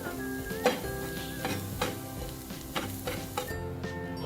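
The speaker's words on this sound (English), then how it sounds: "When the ginger turns a light brown in color and when both the ingredients are fragrant" Ginger and chilli frying in oil in a pan, a soft, steady sizzle punctuated by light clicks and taps of a utensil stirring, fairly quiet with a faint background hum.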